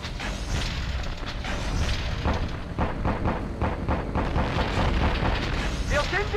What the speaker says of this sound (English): Flugzeug im Anflug! Flakstellungen! Feuer!